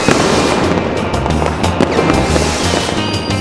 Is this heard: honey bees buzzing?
no